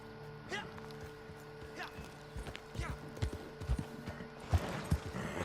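Hoofbeats from a horse in Red Dead Redemption 2 Online thud in an uneven, quickening run, with a faint whinny and speech in the background.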